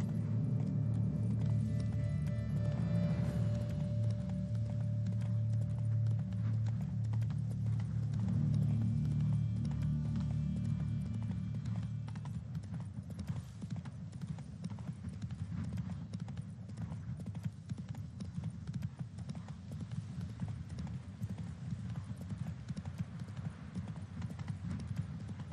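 Hooves of the horse Roach in The Witcher 3 gallop in a rapid, continuous clip-clop rhythm over a low rumbling ground layer, loud and close, lasting throughout.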